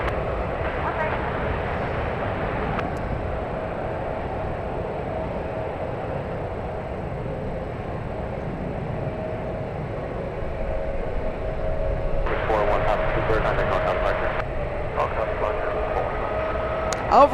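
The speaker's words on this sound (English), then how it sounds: "I love the takeoff." Jet airliner taking off at San Francisco airport, a broad steady roar that swells louder toward the end, heard from a distance with people talking throughout.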